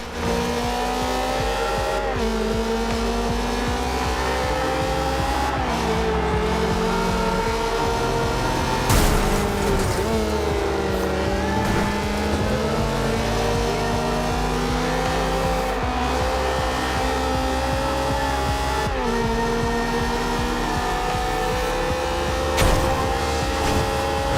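Ferrari 360 Challenge Stradale racing in Forza Horizon 2, a loud sustained engine note rising and falling through gear changes with occasional tire squeal, continuous throughout with no talk.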